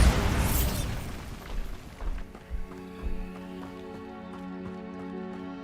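A Bombarda spell blast in Hogwarts Legacy: a loud burst of noise at the start, followed by several thudding booms and crackling impacts over a lingering tonal hum, with no talking.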